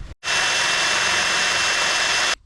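A hammer drill bores through a brick wall for a light installation, a loud, steady, grinding whir that starts abruptly after a brief pause and runs unbroken for about two seconds before cutting off.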